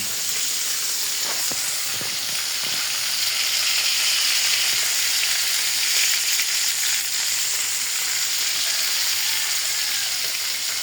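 Steady, close sizzling of fish frying in hot oil, a dense crackling hiss with a few louder pops and light stirring sounds.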